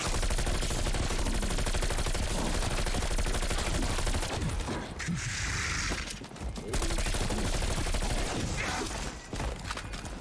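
Sustained Stoner 63 machine gun fire in a zombies video game, a dense continuous barrage of rapid shots that stays loud throughout, with brief thinner gaps near the middle.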